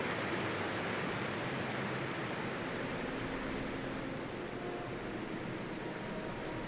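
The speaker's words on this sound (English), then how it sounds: "the sound effects are really loud. You can really hear that waterfall" A waterfall in modded Skyrim roars as a loud, steady broadband rush of falling water that holds even and unbroken throughout.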